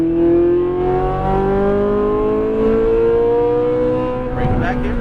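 A Ferrari 458 Italia V8 screams on a race track as it accelerates hard, its rising engine note loud and close with strong harmonics, dropping briefly near the end before building again.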